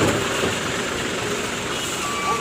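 An Efisiensi Jaya coach rumbles past close by, a loud, steady broadband engine and road roar with no break.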